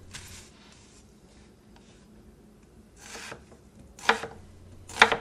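A knife chops celery into chunky pieces for minestrone on a cutting board, with a few irregular crisp strokes and scraping sounds that grow sharper and louder toward the end, close by and with no talking.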